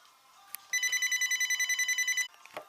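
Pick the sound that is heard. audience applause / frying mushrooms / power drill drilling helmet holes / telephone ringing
telephone ringing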